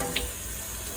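Beef bungs rinsed under lukewarm tap water, a brief steady rush of running water close by with no speech.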